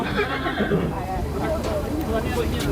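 A mare neighs and whinnies at the horse market of the Maghi Mela fair in Muktsar Sahib, over steady background chatter, with faint hoof clatter nearby.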